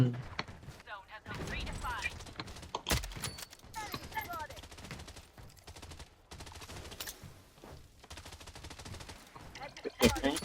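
Rapid bursts of automatic gunfire and single shots in the shooter game Blood Strike, clustered in volleys over several seconds with people talking excitedly throughout.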